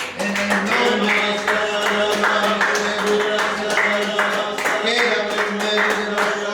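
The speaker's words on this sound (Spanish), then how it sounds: "Ahora denle un fuerte aplauso." A church congregation claps loudly during a worship service, dense steady applause running the whole stretch over sustained music and voices.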